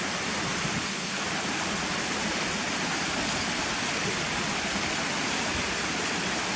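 Cotterforce waterfall and river roaring in a steady, dense wash of falling and rushing water, close and constant throughout with no breaks.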